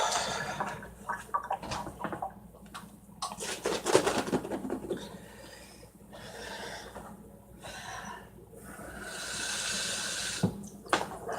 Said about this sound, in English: I won't put too much water in here, or we'll have the same problem we had earlier.